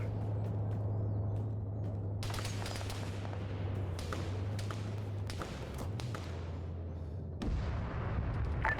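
Artillery fire in the Arma 3 military video game, with distant booms and thumps of HE shells falling near a bridge during a castle assault, over a steady low hum.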